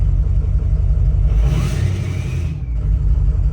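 A 6.0 diesel truck engine idles with one cylinder disabled, giving a loud, steady, close rumble with a slightly uneven beat and a faint whine rising midway.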